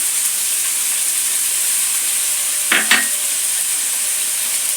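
Chicken gizzard fries in a pan with spices under a constant close hiss of sizzling oil, broken once by a brief double scrape of a stirring spoon; no one speaks.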